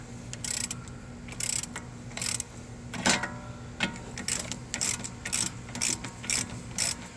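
Upper bolt on a Chevy Cruze driver's side CV axle being loosened with a ratchet: bursts of rapid clicking repeat in short runs over a low steady hum, close and fairly quiet, with no voices.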